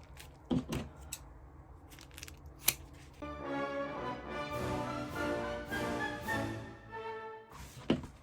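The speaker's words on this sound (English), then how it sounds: "And you want to just get these separated so you can work with them." Pieces of ribbon for a patriotic Fourth of July ribbon wreath are pulled apart by hand. Crinkly rustles and sharp snaps sit close by, with a sustained tonal stretch through the middle and a final snap near the end.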